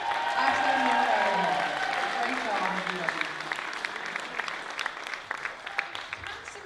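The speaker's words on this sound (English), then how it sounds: "give them a big round of applause" Audience applause at a live talent show, starting dense and full with a voice and music-like tones underneath, then thinning into scattered individual claps as it fades.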